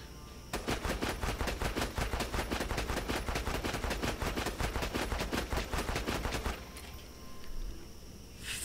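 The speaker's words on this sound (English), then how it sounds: "Now I'm going to reload and do a full magazine and look at the last shot." Rapid, evenly spaced shots from the Liuda sniper rifle in Borderlands 2 fire as a continuous burst for about six seconds, loud and regular, before stopping and giving way to a quieter tail.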